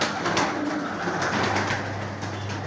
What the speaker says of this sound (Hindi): भाट साहब ने जब भी कबूतर रखे हैं ना एक जैसे रखे।